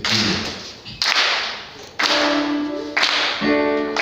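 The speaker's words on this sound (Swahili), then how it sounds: "Tuonge makofi hivi" A church congregation claps in unison, four loud, reverberant claps spaced about a second apart, each ringing out into the hall with no talking.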